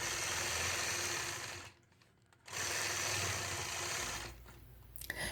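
A sewing machine stitching through a quilt block, a fast, steady mechanical whirr that stops for a moment and then resumes. The stitching sounds close and fairly quiet, with no talking.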